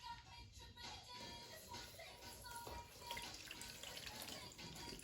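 Water runs steadily from a tap for washing hands and feet at home, a soft continuous splashing that holds quietly through the whole stretch with faint movement in it.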